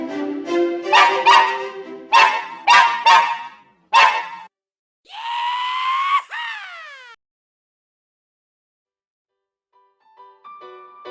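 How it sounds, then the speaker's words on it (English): A puppy gives a quick run of high, nasal yipping barks, then a longer whining cry that falls in pitch. After a pause, a few faint yips follow. "And yes, Peanut, Captain McWinky's puppy"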